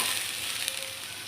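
Chopped garlic frying in a pan for a village-style goat head meat curry, a steady soft sizzle close by that runs alone without a break.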